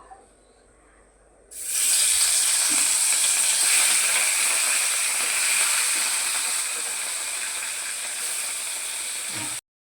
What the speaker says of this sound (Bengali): কড়াইয়ের তেলও গরম হয়ে গেছে এবারে মাছগুলোকে দিয়ে দেবো